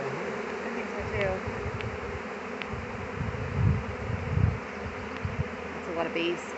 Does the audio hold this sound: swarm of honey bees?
yes